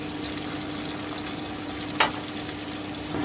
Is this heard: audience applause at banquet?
no